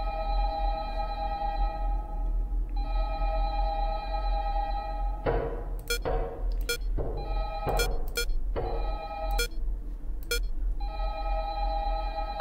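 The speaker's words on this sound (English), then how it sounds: "Someone gonna answer the phone?" A telephone rings in the horror video game Five Nights at Candy's 2, a steady electronic multi-tone ring that repeats in long bursts with short gaps, joined midway by sharp clicks and beeps over a low constant hum.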